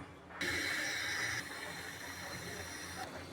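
A gas stove burner is lit in a kitchen where a tomato fish curry is being cooked, giving a steady close hiss that starts abruptly, holds, then dips slightly in level before continuing.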